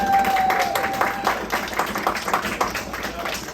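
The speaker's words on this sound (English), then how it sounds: "let's bring to the stage with thunderous exponential applause, Mr. D. Fly himself, Daniel Fleischman." Audience applause welcoming a speaker onto a stage at a real estate listing seminar, a steady wash of clapping lasting a few seconds with a faint tone and some crowd voices underneath.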